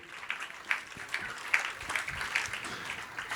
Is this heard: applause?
yes